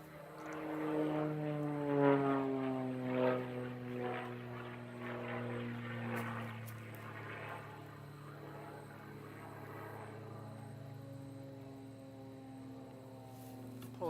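Aerobatic propeller plane flying maneuvers at the US Nationals, its engine drone rising and falling in pitch as it climbs and turns, moderately distant and fading toward the end.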